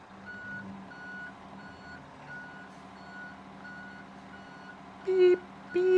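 In a truck driving video game, a reversing truck sends out steady, evenly spaced warning beeps over a low engine hum. Near the end come two short, louder hissing bursts.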